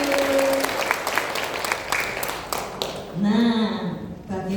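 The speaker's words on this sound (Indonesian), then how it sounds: "Tepuk tangan buat Tuhan Yesus." A church congregation claps at a ministry service: brisk applause that thins out partway through, then a voice speaks over the tail end.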